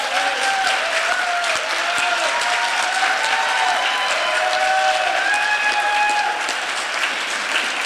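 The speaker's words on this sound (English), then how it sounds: "just a round of applause for their video performance." A conference audience at a racial justice summit panel gives a sustained round of applause, dense and steady for the full stretch with no talking over it.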